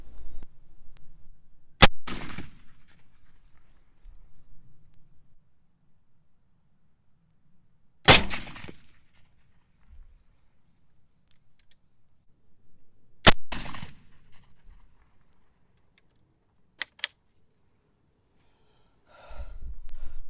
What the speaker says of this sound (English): So I fired 12 rounds at this thing.